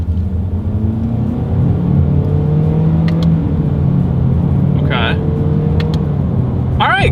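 A 2022 Honda HR-V with a CVT accelerating under paddle-shift control, heard from inside the cabin as a steady, droning engine rumble whose pitch slowly rises, with a few faint clicks near the end.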